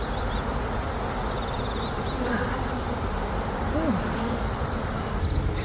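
Honeybees buzzing in a dense, steady drone around an open hive during a fall inspection, close and continuous for the whole stretch.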